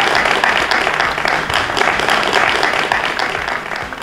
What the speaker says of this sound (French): on applaudit très très très très fort